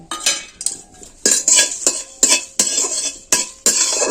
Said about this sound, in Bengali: এবার এটা আমি শুকনো খোলায় দিয়ে দিচ্ছি দিয়ে আমি নেড়ে চেড়ে ভেজে নেব